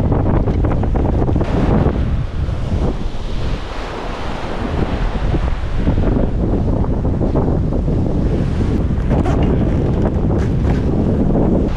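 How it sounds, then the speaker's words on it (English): Strong wind buffets the microphone in loud, continuous gusts, mixed with crashing surf nearby at a fishing spot; no voices. "Pretty windy. Really windy."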